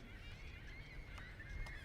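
Birds honking in a video game, a steady run of goose-like honks and calls over a constant low background, moderately loud throughout with no talking.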